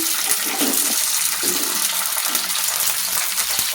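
Green chilies dropped into hot oil in a pan, a steady loud sizzle and crackle of frying throughout, with no talk.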